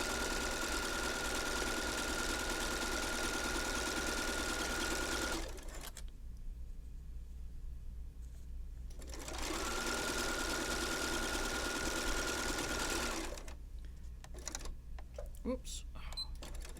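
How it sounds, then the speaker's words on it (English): Sewing machine running in two long steady bursts of rapid stitching across the bottom of a zipper bag, close and even, with a pause between and a voice talking in the quieter gaps. "this time we're going to sew all the way across the bottom."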